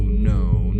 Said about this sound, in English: I can hear the hum